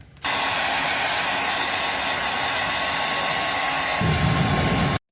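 A hair dryer blows on a cleaned Passion Pro motorcycle air filter, giving a loud, steady whooshing whir that runs for about five seconds. Its tone shifts slightly near the end before it cuts off abruptly.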